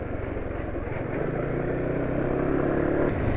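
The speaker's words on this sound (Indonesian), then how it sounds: "buktinya motornya masih bisa kencang" A motorcycle engine revving and accelerating hard, a steady loud drone that rises slightly in pitch and intensity, up close with no talking.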